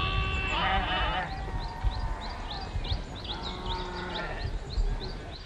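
Ewes bleat repeatedly on a mountain livestock farm, several overlapping calls near and far over a steady rustling background.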